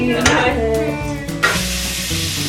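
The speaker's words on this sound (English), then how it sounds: "Put the onion up in the butter" Onion hits melting butter for a vegetable curry, a close crackling sizzle rising sharply with a couple of stir strokes over a steady low hum, brief and loud.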